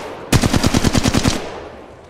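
A burst of Spitfire machine gun fire in the mobile shooter Apex Legends Mobile: about ten rapid, evenly spaced shots in roughly a second, loud and close, then a fading tail.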